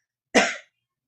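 A single short, sharp cough, close and fairly loud, standing alone in otherwise silent surroundings.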